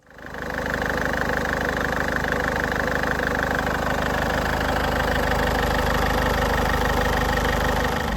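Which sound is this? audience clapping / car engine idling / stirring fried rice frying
car engine idling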